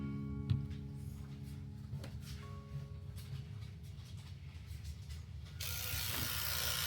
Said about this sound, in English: So this is my clipper. It's good. It sounds like a diesel, but it's fine.